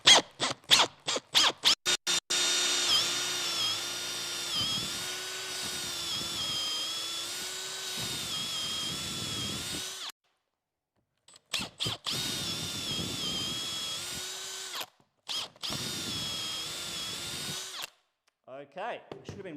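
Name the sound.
power drill boring a hole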